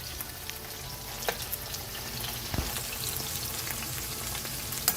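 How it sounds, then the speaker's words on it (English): Indian-style meatballs frying in a pan make a steady, close sizzle with occasional louder crackles and light knocks as they are flipped, with no talking. "we're going to start flipping our meatballs"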